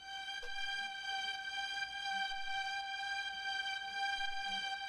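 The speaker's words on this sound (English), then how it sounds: "Hollywood Studio String Section, just sounds really lush." Omnisphere Hollywood Studio String Section patch held as one sustained chord over two octaves, a steady, bright, layered tone that stays even for several seconds at moderate level.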